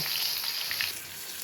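Tomatoes frying with onion, ginger, garlic and green chillies in a pan, a close, steady sizzle and crackle with no talk.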